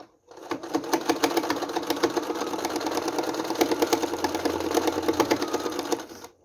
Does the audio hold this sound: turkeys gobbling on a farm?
no